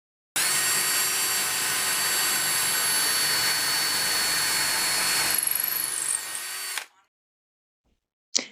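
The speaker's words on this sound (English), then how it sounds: "I have my drill outfitted with a bit that's a little bit bigger in diameter than the dowel" Power drill fitted with a bit slightly wider than a dowel, boring a hole in wood with a steady, loud, close whine for about six seconds before winding down and stopping.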